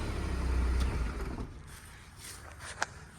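A Cadillac Cimarron engine is switched off. A low, close idle rumble fades away over about a second, then a quiet pause follows with a small click or clunk near the end.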